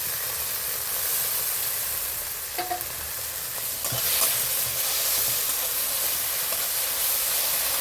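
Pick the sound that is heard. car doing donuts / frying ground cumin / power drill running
frying ground cumin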